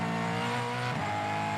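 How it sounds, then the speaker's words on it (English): A Supercars race car slides through a third-to-fourth gear shift at the Tasmania Super 440, its engine a loud, sustained roar that dips briefly at the shift and then pulls on, with no voices over it. "Car's fully on the slide there, totally grip limited as they go through that gear shift from third to fourth"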